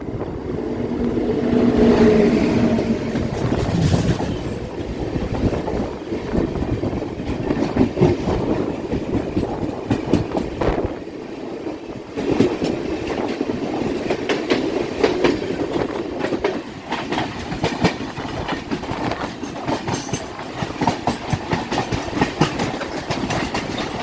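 An Indian Railways MEMU train runs steadily near Sachivalaya Halt, its rolling rumble and rhythmic clickety-clack of wheels over rail joints loud and continuous throughout, with no voices.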